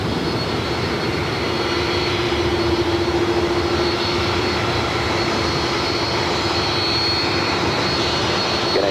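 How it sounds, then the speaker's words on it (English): A United Airlines Boeing 757-200 jet arrives at LAX on the south side, its engines a steady, broad roar that holds at a fairly constant level from start to finish, with no one talking. "Arrival here on the the south side of United Airlines Flight 587 coming in from Houston, Texas"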